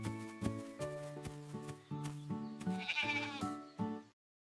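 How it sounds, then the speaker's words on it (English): A sheep bleats in a string of wavering, tonal calls, several separate bleats in a row, clear and close with no other sounds, ending abruptly. "It's a sheep."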